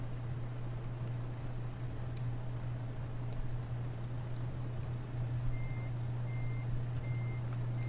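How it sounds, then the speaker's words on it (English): A truck in Farming Simulator 2013 reverses under a trailer: a steady low engine drone throughout, with faint intermittent reversing beeps joining near the end. "you just take your truck and you run it underneath"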